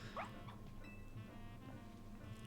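Patachio, a small dog Pokémon in Pokémon Legends Z-A, gives a few faint, short yips and cries spaced through the clip over a quiet game background with a soft musical tone.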